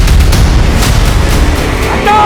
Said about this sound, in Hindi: हम इस तरफ से फायरिंग करके उसका ध्यान अपनी ओर आकर्षित करेंगे